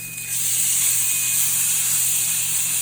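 Wagyu boneless ribeye steak sizzling in a hot pan as it is flipped, a steady loud hiss that jumps up after a brief quieter opening and holds evenly.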